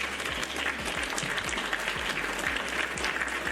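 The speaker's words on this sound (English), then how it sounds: "So we'll give him a clap for that." Steady applause from an audience, a continuous wash of many hands clapping at moderate loudness with no talk over it.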